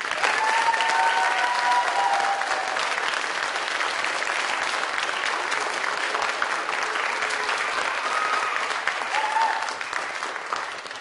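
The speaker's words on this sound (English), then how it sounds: "Let's get the musicians on stage a round of applause." Sustained, loud audience applause for young musicians on stage at a middle school composers' concert, a dense unbroken roar of many hands clapping that stays steady for the whole stretch, with faint voices mixed in.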